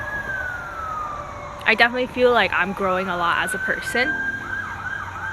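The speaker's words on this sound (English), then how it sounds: "Sirens are very distracting." A siren wails in the background, its tone sliding slowly, while someone talks over it in the foreground.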